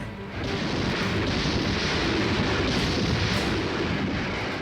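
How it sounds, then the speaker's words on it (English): Massive Russian artillery and aerial bombardment pounding Berlin in April during the final assault of the war, heard as a continuous deep, loud roar of rumbling explosions with no separate blasts standing out. "Hitler wakes up to massive Russian artillery and aerial bombardments."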